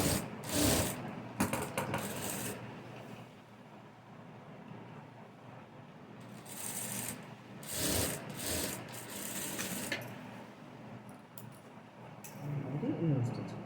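A sewing machine stitching a blouse, heard close up in several short bursts of whirring mechanical rattle separated by quieter pauses, with a faint voice in the gaps.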